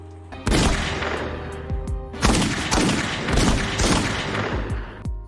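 Rapid bursts of gunfire crackle and boom in dense volleys, loud and close, with sharp repeated shots overlapping throughout.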